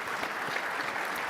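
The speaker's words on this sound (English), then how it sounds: "if you don't mind giving them a round of applause for the session" A conference audience at an NCAA sports betting session gives the panelists a round of applause, with loud, close, sustained clapping across the short stretch and only faint crowd murmur beneath.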